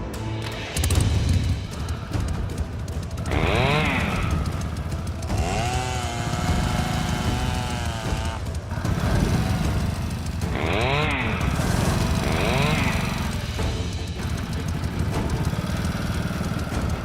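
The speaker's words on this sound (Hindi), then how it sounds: "बाइक स्टार्ट कीजिए।" A motorbike engine runs loudly and steadily nearby with a rough, rattling idle, and its revs rise and fall a few times throughout.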